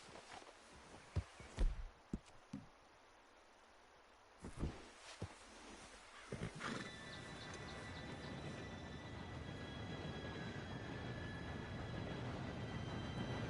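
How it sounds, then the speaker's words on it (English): A train in the Red Dead Redemption 2 video game rolls in, building from scattered footsteps and clatter into a steady, loud rumbling roar with a high metallic squeal that continues to the end. "Train should be here any minute now."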